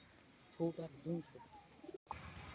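Two pet pigeons kept by a fancier coo in short, low, rounded pulses, fairly close and moderately loud, with a brief silent gap and outdoor background noise.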